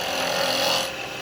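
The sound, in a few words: woodturning scraping cut on wood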